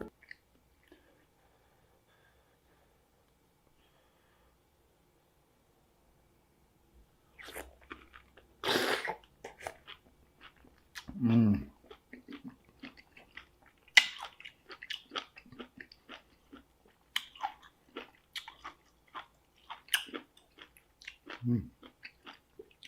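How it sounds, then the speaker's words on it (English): Giant pickles dipped in cheese are bitten and chewed in a run of close, wet crunches and smacking mouth noises, scattered and irregular, with some louder bursts after an almost silent start. "you're dipping giant pickles into cheese and stuffing them in your mouth like there's no tomorrow"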